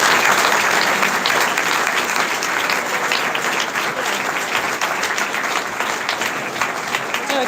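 An audience claps at length after a Q&A conversation event, a dense, loud, sustained wash of applause that holds steady throughout with faint voices underneath.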